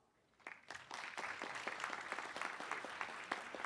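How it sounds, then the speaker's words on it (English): Applause from the audience at a doctoral hooding ceremony, starting with a few separate claps, then building quickly into steady, fairly faint clapping with distinct individual hand strikes. "Give yourselves a big round of applause."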